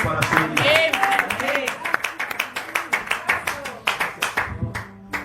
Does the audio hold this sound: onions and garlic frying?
no